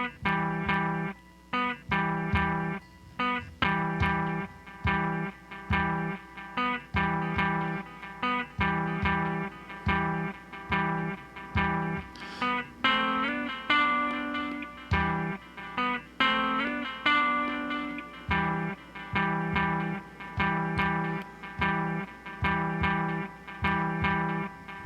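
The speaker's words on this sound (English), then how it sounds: "Now we're gonna do the delay." A Roland P-6 sampler plays through a tube amp with delay, a looping rhythmic electronic pattern of repeated pulses and tonal hits with echoing repeats, steady and moderately loud throughout.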